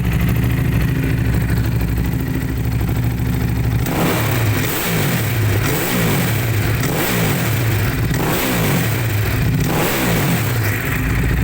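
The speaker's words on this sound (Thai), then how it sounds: "เดี๋ยวผมจะพาไปฟังเสียงท่อแอโร่ว่าจะดังเพาะแบบไหนไปฟังก" A 2015 Ducati Hypermotard 821 with a loud aftermarket Arrow exhaust idles close up, then revs repeatedly in sharp bursts, the throttle blips rising and falling in a regular pattern.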